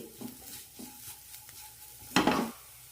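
Onions and vegetables are sautéed in a pan for samosa filling, with soft intermittent stirring scrapes over a faint sizzle and one louder clattering stir near the end.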